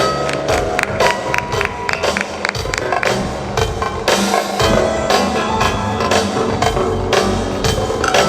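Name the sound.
audience applause for a speaker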